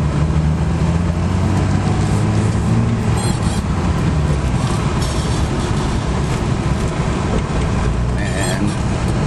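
A Nissan Fairlady Z with a 3.1 stroker engine drives along, its loud, steady low engine drone and road noise filling the cabin, with a voice speaking over it.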